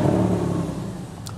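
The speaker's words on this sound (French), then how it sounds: "Donc maintenant qu'on est connecté, on démarre le véhicule." A car engine catches and settles into a steady idle hum after starting, close and fairly loud, with no voices over it.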